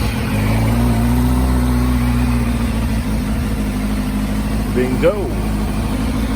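A motorcycle engine idles steadily up close, then takes a few quick throttle blips in a row. Someone speaks briefly over the engine.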